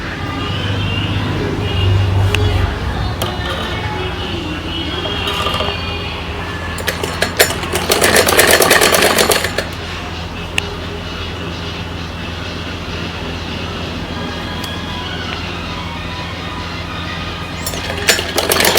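A sewing machine stitches the crotch seam of a child's night suit in one rapid, rattling burst of a couple of seconds, close by, amid an otherwise quiet room hum.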